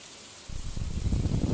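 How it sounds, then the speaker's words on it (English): Steady broadband patter of rain falling in the farming game Stardew Valley, quiet at first and then swelling into a denser, louder wash of drops that continues to the end. "we've got a rainy day"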